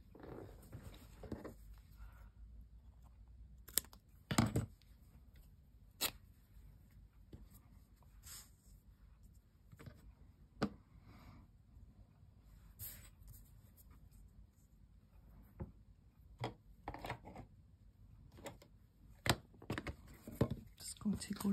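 Sparse, faint snips and clicks of paper being cut down to size for a junk journal, spaced irregularly in a quiet room with soft handling noises between them.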